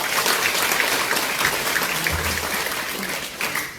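Audience applause at a book launch event for a former four-term lawmaker, a dense steady wash of clapping from a seated crowd in a hall, loud and close, lasting throughout without speech.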